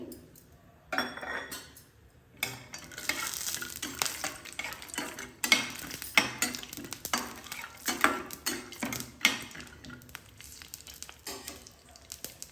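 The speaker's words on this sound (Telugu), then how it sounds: "ఆయిల్ కొంచెం వేడొచ్చిన తర్వాత ఒక అర కప్పు పల్లీలు వేసానండి" Half a cup of peanuts frying in hot oil, giving a crackling sizzle with frequent spoon clinks and stirring scrapes against the pan, close and moderately quiet, without speech.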